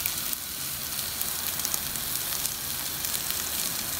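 Onions fry in a pan with a steady, close sizzle and crackle that runs unbroken throughout, with no voices.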